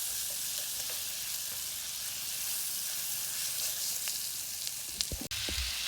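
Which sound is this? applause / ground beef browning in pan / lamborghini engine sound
ground beef browning in pan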